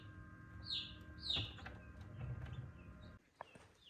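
Newly hatched chicks in a brooder give a few short, thin chirps over a faint mechanical hum, quiet and close, ending in near silence.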